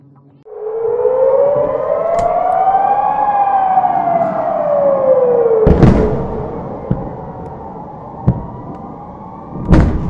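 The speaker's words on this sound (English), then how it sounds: "Air raid sirens wailed as far north as Tel Aviv." Air raid sirens wail across Israel, one loud tone climbing and slowly falling, broken by several sharp, heavy booms near the end.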